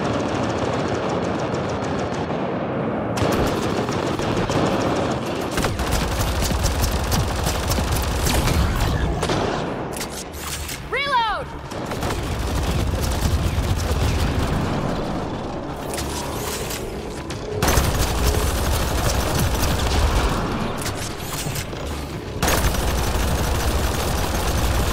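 Enemy weapon fire in the sci-fi shooter Mass Effect Andromeda, dense bursts of shots and booms running almost continuously over a loud mix of effects and rumbling background.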